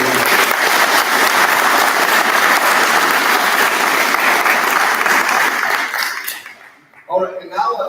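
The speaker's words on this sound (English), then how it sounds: "let's give them one more round of applause before we move." Parents at a 5th grade graduation ceremony give a long, loud round of applause that fades out, followed by a voice starting to speak.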